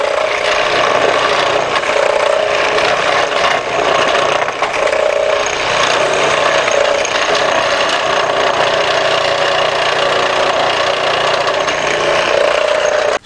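A floor scraper machine grinds steadily along a floor, stripping glue-down carpet, a loud continuous scraping rumble with no pauses and no voices.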